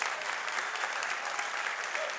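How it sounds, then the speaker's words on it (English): An audience claps steadily through the whole moment, a dense wash of applause at a live talk about the Chainlink cryptocurrency, fairly loud and even with no single standout claps. "So this got 2 claps."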